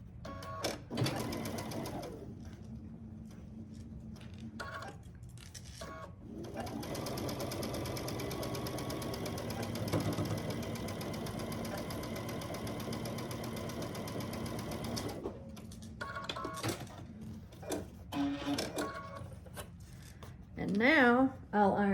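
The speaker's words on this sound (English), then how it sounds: "And then I'll stitch down this side." Sewing machine stitching a quilt block seam, a steady whirring, buzzing drone that runs for most of the clip with brief pauses near the start and end, with light handling noise and some talking near the end.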